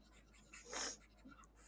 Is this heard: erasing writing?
yes